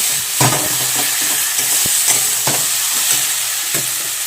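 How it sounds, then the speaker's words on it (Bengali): Spice masala for a pointed gourd and shrimp curry frying in oil, stirred with a spatula. Repeated scraping strokes come at a steady rhythm over a continuous close sizzle, with no talking. "দেখো এই মশলাটা কিন্তু ভালো করে কষিয়ে নেব"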